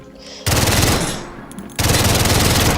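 Rapid automatic fire from a G18 pistol in the shooter game Delta Force, two loud sustained bursts of fast rattling shots separated by a short gap, close and dominant.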